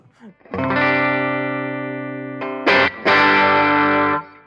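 Heavily distorted electric guitar chord from a Sterling Cutlass CT30 with humbucker pickup rings out loud and sustained, briefly cut and restruck, then held before fading.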